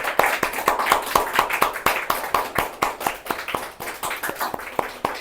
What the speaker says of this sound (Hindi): सारे बच्चे एक बार जोर से तालियां बजाएंगे